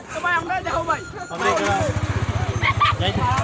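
A motorbike runs by the historic Saagar Dighi pond in Baniyachong village, its engine rumbling steadily close at hand through the latter half, with people talking over it earlier.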